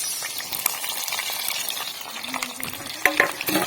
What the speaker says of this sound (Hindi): अब प्याज को थोड़ा हल्का ब्राउन करती हूँ